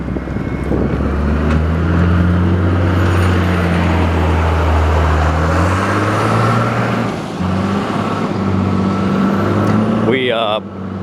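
A loader working in a scrapyard, where a Volkswagen Jetta sits on it, gives a loud, steady diesel engine drone with heavy low rumble throughout and a brief higher whine near the end.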